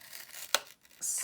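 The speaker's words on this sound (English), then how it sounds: "I just made a tiny little cut on the bottom of the rectangle" Scissors make a tiny cut in a folded paper rectangle, heard as a single quick, close snip-and-tear burst amid light paper rustling, followed by a brief hiss of handling noise.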